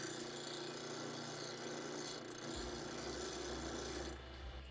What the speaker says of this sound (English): Sharpen on one side, flip it to the next one, flip it to the next one.